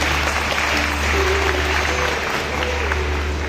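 Enthusiastic applause from university students and teachers at a pledge ceremony in a hall: loud, sustained clapping from a big crowd with a low steady hum underneath, unbroken for the whole stretch.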